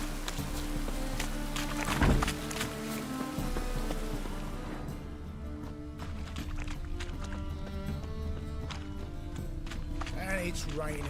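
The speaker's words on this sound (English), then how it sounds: "And it's raining again." Steady rain falls in a video game scene, a continuous hiss that sits beneath background music and character voices throughout.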